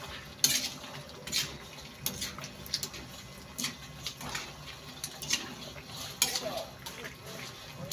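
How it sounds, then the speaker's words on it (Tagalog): Pork kinamatisan is stirred in a cooking pot, with a spoon scraping and clinking against the metal in irregular knocks, fairly close, while someone talks now and then. "Haluin lang ulit."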